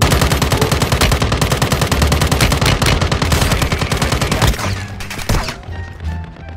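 Rapid automatic gunfire from COD Warzone Mobile rattles in dense, loud bursts for about four seconds, then drops to scattered, quieter shots with lingering game noise.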